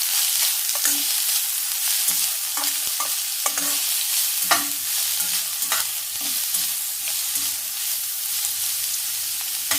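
Finely chopped onion fries lightly in a pan for an egg curry, a constant hiss of oil under frequent spatula scrapes and taps, close and steady with no voices.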